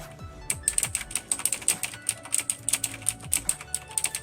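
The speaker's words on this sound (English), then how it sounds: "It's a pretty decent example of a mechanical switch." Rapid clacky keystrokes on a mechanical keyboard with Razer switches, crisp and close, in an uneven typing rhythm.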